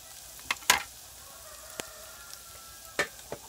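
Frog meat fries in a pan with a faint, steady sizzle, broken by a few sharp scrapes and clacks as it is stirred.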